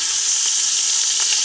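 Onion and tomato sautéing in a pan for a white bean dish, a loud, close, continuous hiss and sizzle with faint stirring scrapes, and no voice.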